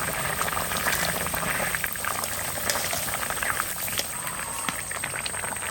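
Bottle gourd greens with green chilies boil in a covered pot, giving a dense, continuous bubbling and hissing simmer, close and fairly loud, with a thin steady high tone above it and no talking.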